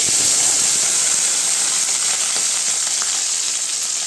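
Mustard seeds and shallots fry in hot oil, a loud, dense, unbroken hiss of sizzling that stays strong and close from start to finish.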